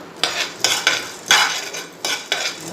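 Lentils being stirred while dry roasting in a pan for sambar powder, a spoon scraping and clinking against the pan in several distinct strokes, close and fairly loud, with no talk.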